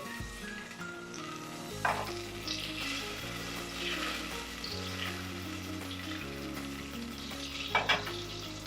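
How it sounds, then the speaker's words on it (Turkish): About a tablespoon of butter sizzles and crackles steadily in a hot pot for Turkish tas kebab, with a couple of brief clinks of a utensil against the metal. "Kızdıktan sonra biraz bir yemek kaşığı kadar tereyağı atıyorum. Tereyağım erisin güzelce."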